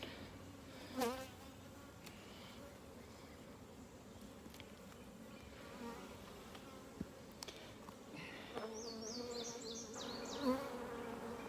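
Honey bees buzz continuously at low volume, a dense droning hum with occasional louder passes near the listener.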